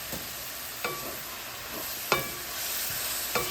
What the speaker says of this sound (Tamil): கோவா வதங்கினா பிறகு தான் தக்காளி பழம் போட்டு வதக்க வேணும்